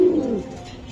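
A large racer pigeon gives a single close, loud coo, a low throaty warble that slides downward and fades within a second, with no voices.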